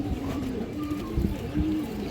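A silver male pigeon coos softly in a few repeated, low rolling calls, close by and alone without talk.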